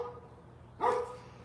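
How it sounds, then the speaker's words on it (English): Dogs bark once in a short burst after a quiet stretch of faint background hum, a single fairly close woof standing alone. "Dogs are barking."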